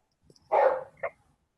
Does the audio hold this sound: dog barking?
yes